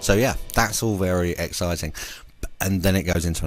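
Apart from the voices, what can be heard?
No distinct noise like a dog, phone or traffic.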